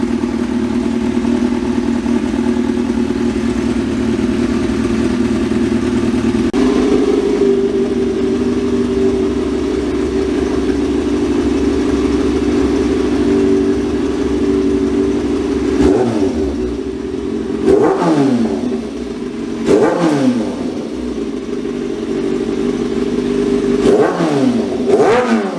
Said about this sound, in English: let's let her warm up. She's still pretty cold, but when she warms up, probably get a couple revs in.